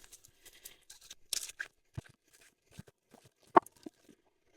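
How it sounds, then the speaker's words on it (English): Tarot cards drawn from a deck and laid down in a quiet room, with scattered soft shuffles, a brief papery rustle and a few light taps, close and faint, no talking. "I'm going to actually get out a few more cards on this."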